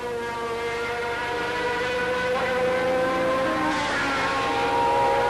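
A 1990 Formula One car crosses the start-finish line during Mexican Grand Prix prequalifying, its high, steady engine whine swelling a little louder as it passes.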